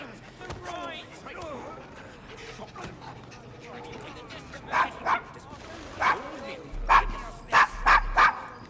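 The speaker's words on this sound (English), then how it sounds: "Is your dog quite all right?" A dog in Assassin's Creed Syndicate barks in short, repeated bursts and whimpers, louder toward the end, with people talking over the earlier part.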